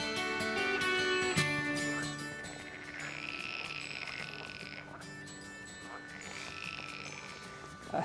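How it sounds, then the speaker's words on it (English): Frogs croak loudly and continuously on a street in Denmark, a dense chorus of repeated rasping calls that rise and fall in waves, close and dominant with no talk over it. "those frogs are making a huge amount of noise"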